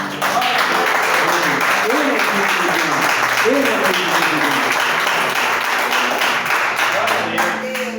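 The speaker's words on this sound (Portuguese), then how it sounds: "Então aplauda uma palavra do Senhor." A church congregation applauds during a sermon on Jesus' sacrificial love. Loud, continuous clapping fills the hall, with voices calling out over it.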